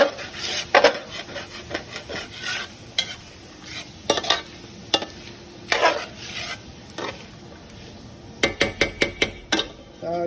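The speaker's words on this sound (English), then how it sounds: "just saute your vegetables and scrape up all that brownness from the hamburger patties" Metal utensil scraping and clinking against a pan while vegetables sauté in the browned drippings left from hamburger patties, with irregular stirring scrapes and a cluster of quick clatters near the end over a soft sizzle.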